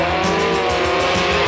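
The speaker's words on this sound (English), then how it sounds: "a Grand National sport truck takes on an unlimited single-seat dune buggy in head-to-head competition" Off-road racing with a Grand National sport truck and an unlimited single-seat dune buggy going head to head, engines roaring loudly and continuously with a hint of tire noise, no voices over it.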